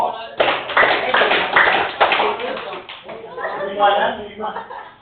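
A class claps together in unison for a student group, giving five sharp synchronized claps amid voices and laughter in a classroom.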